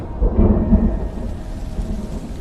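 Thunder rumbles loudly through steady heavy rain in a storm, with a strong crack early on that settles into a continuous downpour.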